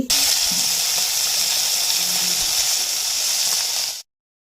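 Fish frying in a pan in a home kitchen gives a steady, bright sizzle that stays loud and even for about four seconds and then cuts off abruptly.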